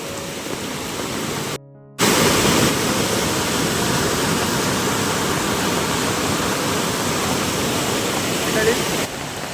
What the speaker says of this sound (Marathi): आता या कोंडीच्या पुलावरून देखील पाणी चाललं आहे